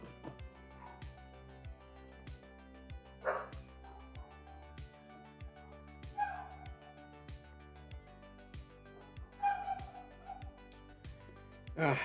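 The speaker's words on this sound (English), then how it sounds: "So my dogs are barking because they heard another dog barking." Several pet dogs bark at home after hearing another dog outside, loud, close bow-wow barks in irregular bursts over a steady low hum, with occasional higher yips and no talking.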